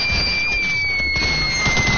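Rapid gunfire from a video game, a dense burst of crackling shots packed into two seconds over a steady loud background with a thin electronic whine.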